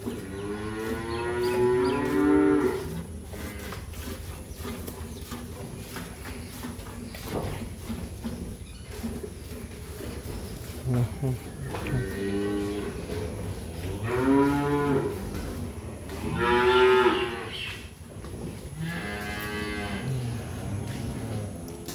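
Several cows on a farm in the morning moo in long, drawn-out calls that come repeatedly over about twenty seconds, some near and loud, others softer, with steady low background noise.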